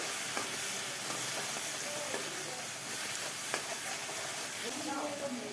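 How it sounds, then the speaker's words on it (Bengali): Steady sizzling of ginger paste and salt frying in a pan, with a constant hiss and occasional stirring clicks and scrapes, close by. "মশলাটাকে আমরা কষাবো"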